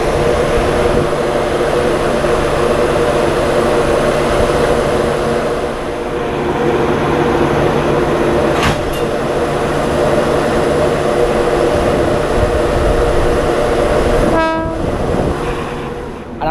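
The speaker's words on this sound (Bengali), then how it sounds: "আর আজকের আমাদের ট্রেনকে হাওড়া নিয়ে যাচ্ছে যে ইঞ্জিন, সেই ইঞ্জিনটা হচ্ছে টাটানগরের ম্যাপ 7 ইঞ্জিন" The Digha–Howrah Tamralipta Express runs hauled by a Tatanagar-based electric locomotive, a loud continuous rolling rumble heard from on board, with a long locomotive horn blast near the end.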